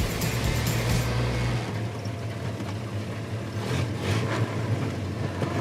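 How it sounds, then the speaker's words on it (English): A Ford Model A rolling down Woodward Avenue: a loud, steady engine drone with a sharp drop in low rumble partway through as the driver double-clutches into a lower gear, then continued driving noise. "Oh, nice double clutch downshift."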